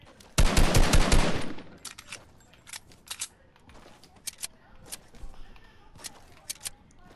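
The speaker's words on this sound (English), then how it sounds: "I need to shoot the bushes." Video game gunfire aimed at bushes: a loud rapid burst for over a second, followed by scattered, quieter single shots and short volleys spread unevenly through the rest of the clip.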